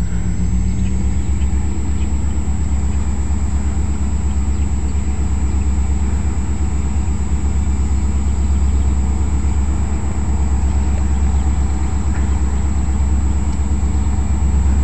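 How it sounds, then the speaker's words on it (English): A new BNSF locomotive engine holds a steady, deep diesel rumble near a railway siding, loud and unchanging for the whole stretch. "Looks like we got a new BNSF engine here."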